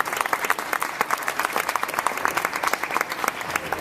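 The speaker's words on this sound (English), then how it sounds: "give him credit and applause right now" Applause for boxer John David Jackson at a post-fight press conference after the Hopkins-Kovalev bout, a modest room of people clapping with distinct, individually audible hand claps forming a lively, uneven patter.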